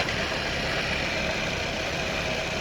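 A 24-inch Arboga Maskiner E830 geared drill press with power down feed runs in high gear at 890 RPM, giving a steady, dense mechanical whir and hum that holds even and unbroken throughout.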